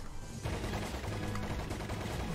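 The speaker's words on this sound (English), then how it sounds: "Shooting at the people as I go along." Rapid automatic gunfire in a video game while shooting at people, a dense continuous burst that starts about half a second in and keeps going, loud and close.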